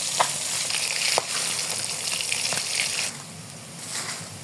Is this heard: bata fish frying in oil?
yes